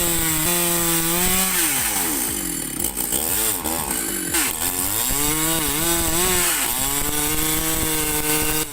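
A high-powered chainsaw cuts through massive timber. The engine drones loudly throughout, and its pitch sags and recovers repeatedly as the chain bites into the wood.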